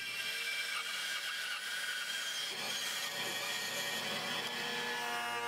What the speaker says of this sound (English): trimming it to width over at the bandsaw